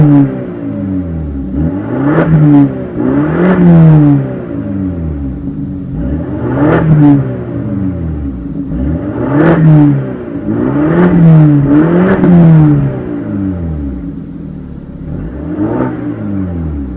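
A 2015 BMW 328i Sport Line engine revs repeatedly at idle, about five or six rising and falling throttle blips that climb and settle in a steady rhythm, close and loud with no talking.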